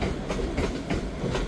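Class 385 electric train arriving at Edinburgh Waverley station, a loud close rumble with rhythmic clickety-clack of wheels over rail joints and no voices.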